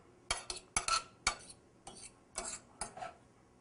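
Food for vegan migas is mixed around in a pan, a series of about seven quick scraping, clattering strokes of a utensil against the pan with short quiet gaps between, close and fairly soft with no talking.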